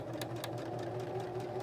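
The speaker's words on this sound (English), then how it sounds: "Now I'm gonna put that presser foot back down and I'm going to sew forward." A sewing machine runs steadily forward along a seam with the presser foot down, giving a close, even mechanical whir with rapid needle ticks throughout a short continuous stretch and no talking.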